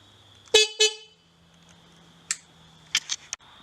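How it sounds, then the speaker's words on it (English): Two short, sharp beeps from a Tusk Enduro kit horn on a Honda CRF150R supermoto sound close by, followed later by a few faint clicks and taps. "the Tusk Enduro kit does come with a horn, so I'll give that a little honk right now"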